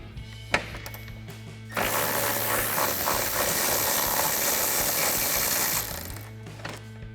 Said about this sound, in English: So we'll take a 13mm socket to remove them.